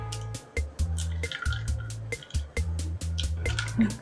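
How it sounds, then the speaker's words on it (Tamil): Thin rice-flour batter for jalar appam is poured into a squeeze bottle with glugging, dripping pours in short repeated bursts. Each pour is close and wet, with low gurgles between splashy drips. "இப்போ இதை எடுத்து இந்த பாட்டிலில் ஊற்றிக்கலாம்."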